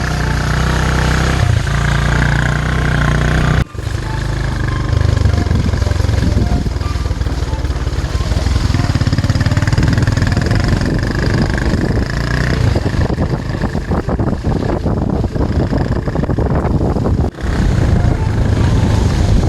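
A motorcycle engine roars and rumbles continuously while riding on a road, loud and close, with wind buffeting and uneven revving throughout.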